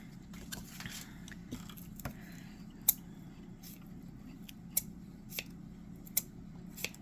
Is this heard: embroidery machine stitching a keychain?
no